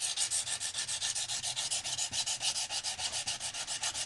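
A kitchen knife sweeps back and forth across a sharpening stone in a steady, even rhythm of rasping strokes, close and clear with no voices.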